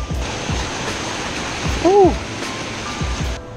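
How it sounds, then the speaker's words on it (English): A little creek and small waterfall rush with steady broadband water noise throughout, close by, with soft footsteps and a brief exhale from someone walking alongside. "kind of parallel to this little creek and waterfall"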